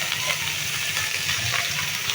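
Bitter gourd slices frying in oil with turmeric powder in a black pan, giving a steady, close, bright sizzle that hisses evenly without pause.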